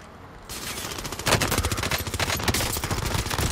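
Rapid automatic gunfire in the video game Warzone, a dense burst of close, loud shots after a brief quieter lead-in, continuing without pause to the end.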